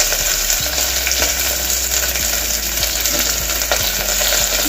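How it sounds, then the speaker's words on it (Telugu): Carrot pieces, chopped ginger and onion pieces fry steadily in a pan, a dense continuous sizzle with a few faint scrapes of stirring, close and unbroken with no talking. "ఇలా ఇది కొంచెం బ్రౌన్ కలర్ వచ్చే వరకు వేయించుకోవాలి"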